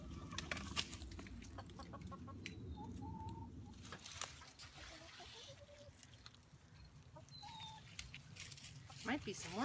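Chickens cluck and chatter around a backyard garden, with short bird calls scattered over a soft background, fairly faint and mixed with rustling and light handling noises.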